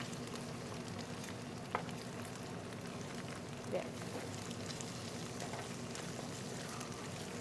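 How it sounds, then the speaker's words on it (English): Small eggs frying in a pan give a soft, continuous sizzle with faint crackles, quiet, while a person briefly speaks over it. "So you're double frying."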